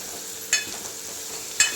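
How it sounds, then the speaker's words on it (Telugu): Fresh green peas fry in oil with a soft, steady sizzle, broken by two brief clinks of a utensil against the pan. "మంచిగా ఆయిల్లో మన బఠానీ, పచ్చి బఠానీ మంచిగా వేగుతుంది"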